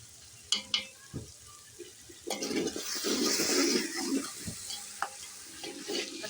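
Masala with ginger-garlic paste frying in a pot for tikka pulao, a steady sizzle with bursts of stirring and a few sharp clinks of a spoon against metal, fairly close and without talk.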